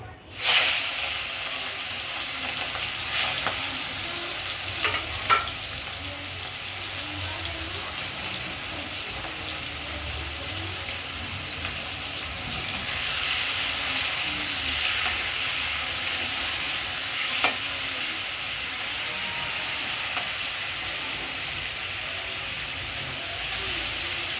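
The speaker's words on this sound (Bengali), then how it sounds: "তেল গরম হয়ে গেছে, এবার চিংড়ি মাছটা ভেজে নেব।" Prawns fry in hot oil in a home kitchen, giving off a steady, close sizzle and hiss. A few light clinks and stirring sounds are scattered through the frying.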